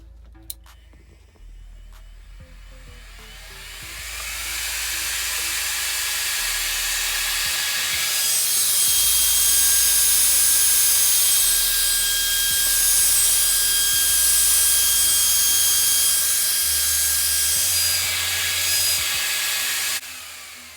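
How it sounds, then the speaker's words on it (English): An upgraded NTF cooling fan for an ARRMA RC car, running on a 3S battery, gives a steady high-pitched whine and airy rush that spins up and holds for about twenty seconds, close and alone. "you can hear the complete difference between the power, the blowing power, the cooling power of a fan like this"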